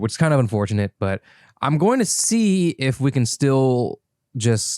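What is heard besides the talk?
No everyday noises stand out.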